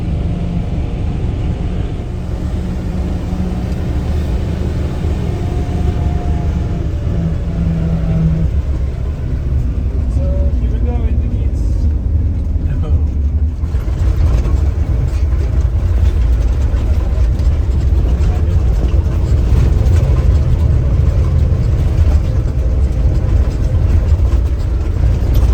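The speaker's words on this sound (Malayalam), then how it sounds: "ഇത് പണ്ടത്തെ എനിക്ക് തോന്നുന്ന USSRന്റെ കാലത്തുള്ള വാനാണെന്ന് തോന്നുന്നത്." An old Soviet-era van drives along on a road trip in Kazakhstan, its engine giving a steady low rumble with constant road noise from start to finish and no voices.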